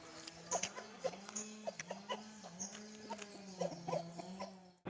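Chickens cluck repeatedly in short, irregular bursts, fairly close, with a low steady hum running underneath and a few sharper squawks mixed in.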